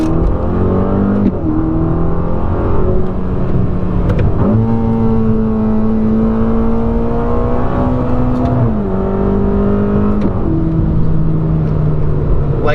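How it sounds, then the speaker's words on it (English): A Ferrari Roma fitted with a Supersprint X-pipe exhaust revs repeatedly, its deep, loud engine note climbing and dropping in several sustained pulls, close and steady with no talking. "you hear already the exhaust that is already slightly different, more deep"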